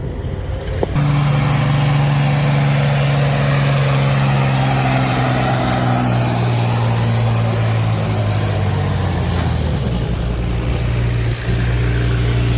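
An antique John Deere 4320 tractor drags a sled at a pulling event, its engine roaring loud and steady, with a low drone that holds for about twelve seconds.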